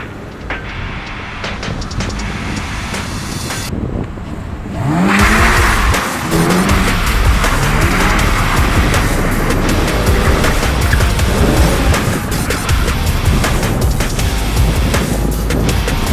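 A 2023 Subaru BRZ drifts, its engine revving hard under a continuous loud tire squeal and screeching skid that rise and fall over a roar of road noise, close and sustained with no talking.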